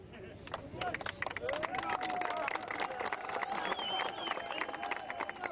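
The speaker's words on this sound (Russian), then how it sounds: "Аплодисменты, не слышу ничего" An audience at a public event honoring Olympic athletes breaks into sharp, rhythmic clapping, fairly close and lively, with someone talking loudly over it and background crowd chatter.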